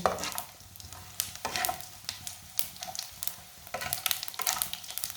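Whole cumin and another spice roast in a pan over low heat, giving a faint, steady crackle with soft scraping and stirring clicks throughout.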